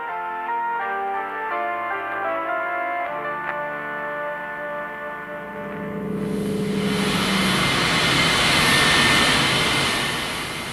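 Engines of the Vimy aircraft on takeoff for its second flight in September 1994. A loud, steady roar swells up after soft music and holds near and strong to the end.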